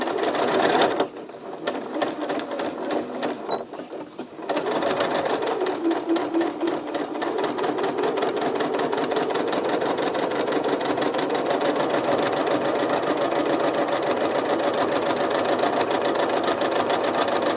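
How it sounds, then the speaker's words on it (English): A sewing machine stitches along the edge of a zippered pouch, running steadily and loudly for most of the stretch after a brief pause near the start, its rapid needle rhythm continuous and close. "So we'll sew right along that edge, and we'll just adjust it if we need to as we go."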